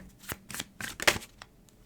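A deck of tarot cards is shuffled at close range, making a few quick papery riffles and slaps over about two seconds, with no voice.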